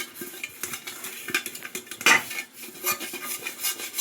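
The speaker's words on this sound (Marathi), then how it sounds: "तेल छान भांड्याला लावून घ्यायचं आहे व्यवस्थित." Steel utensils clink and scrape in a home kitchen as a steel pot is greased with oil for dhokla, with a sharp metallic clatter near the midpoint and lighter taps around it, close and without talk.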